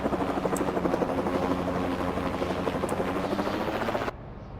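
A dropship aircraft in a video game flies overhead with a loud, steady rotor-like whir and engine hum that holds for about four seconds, then cuts off abruptly, leaving quieter background sound.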